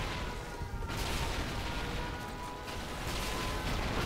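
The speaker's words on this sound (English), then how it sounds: "there's just fireworks going off everywhere" Fireworks burst all over the map in Call of Duty: Ghosts, an Infected match, as a dense, continuous rumble of overlapping booms and crackles that stays loud and busy throughout.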